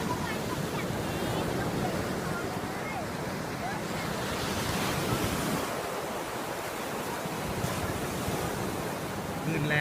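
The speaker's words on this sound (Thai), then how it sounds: "คลื่นแรงมากครับวันนี้" Strong sea waves crash and roll on the beach at Rayong, a continuous loud roaring surf with wind buffeting the microphone throughout.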